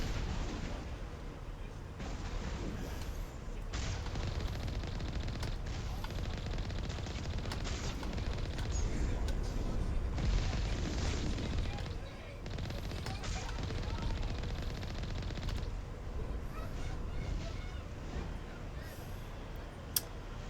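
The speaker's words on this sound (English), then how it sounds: "Hey, you guys should stop shooting me." Enemy gunfire in Mass Effect Legendary Edition rattles on in dense, continuous volleys with heavy booming impacts, loud and sustained for the whole stretch, dipping only briefly before resuming.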